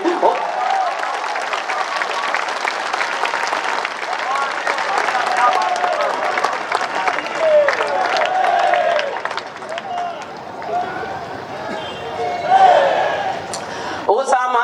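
Sustained applause and clapping from a large audience at a Hindi poetry recital, loud and continuous for many seconds, with a voice speaking over it at times.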